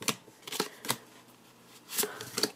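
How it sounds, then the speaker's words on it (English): Pokemon card packs are torn open and handled, with a handful of short, crisp foil crinkles and rustles close to the mic, separated by brief quiet pauses. "I really don't know how I'm opening these packs either."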